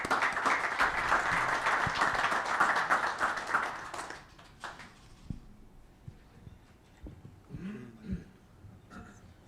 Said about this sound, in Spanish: le brindamos un gran aplauso por su presencia